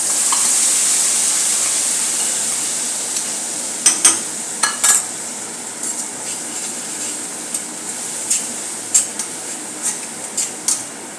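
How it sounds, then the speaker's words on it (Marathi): Ground masala sautéing in ghee with asafoetida over a low flame for Durga Ashtami prasad, a steady close sizzle joined by irregular metal spoon scrapes and clinks against the pan. "आता यामध्ये आपण तयार केलेला मसाला यामध्ये घालून घेऊया."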